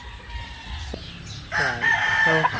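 A Gilmore Hatch gamecock broodcock, a two-time winner kept at a rooster farm, crows loudly and close by in one long harmonic call that starts midway through, over quiet background noise.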